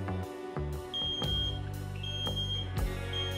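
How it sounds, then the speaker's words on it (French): A home smoke detector sounds its test alarm after the test button is pressed, giving loud, piercing electronic beeps that repeat in close succession with no voices. "Allumez le détecteur et pressez le bouton test pour vérifier que tout fonctionne."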